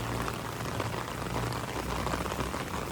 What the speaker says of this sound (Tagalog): Lumakas na naman yung buhos ng ulan.